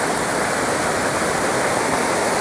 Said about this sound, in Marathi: पूर्णपणे क्षमतेने नदी या ठिकाणी भरून वाहत आहे